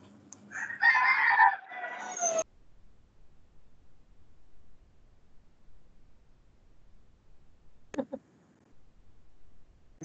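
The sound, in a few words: chicken clucking and crowing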